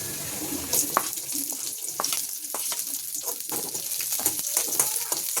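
Chopped onion added to hot oil with golden-fried garlic for soya chilli, giving a soft, steady sizzle with scattered sharper crackles and occasional utensil clicks, fairly quiet and close, without talk.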